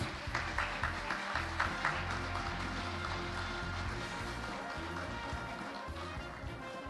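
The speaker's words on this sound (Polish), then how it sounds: "Proszę Państwa, wielkie brawa Gmina Miejska Hojnów." Audience applause at a regional sports awards gala, a steady dense wash of many hands clapping from the hall, moderately distant and sustained throughout with a slightly busier start.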